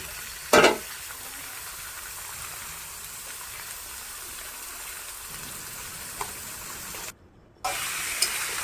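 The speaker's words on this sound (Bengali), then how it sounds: "তো ভালো করে নেড়ে নুড়ে এবার চিকেনটা তুলে দেওয়া হলো" Chicken frying in a pan with green chillies and salt, a steady quiet sizzle with a sharp clatter near the start and a brief drop into silence near the end.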